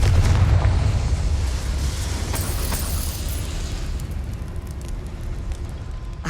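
In Hogwarts Legacy, a Confringo blasting spell bursts in a loud, booming explosion that opens the moment. A rumbling crackle decays slowly, broken by a sharp secondary crack partway through.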